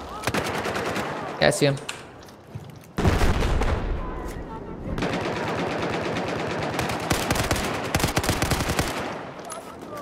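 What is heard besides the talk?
gunfire in video game Battlefield 4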